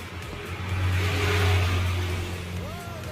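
A Chevrolet Beat car engine that has trouble starting in the morning rises into a short rev, giving a close, steady hum that swells and then eases back.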